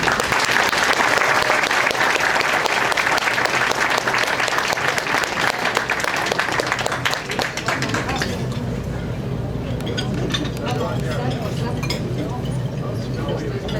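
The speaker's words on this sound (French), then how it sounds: "Applaudissez" A crowd claps loudly and continuously, the applause thinning after several seconds as murmuring voices and cheers carry on beneath.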